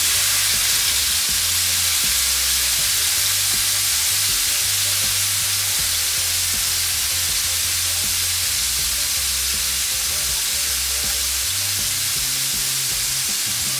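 Loud, steady sizzling of NY strip steak strips searing in a very hot skillet, a dense continuous hiss with faint low clatter underneath, no voices.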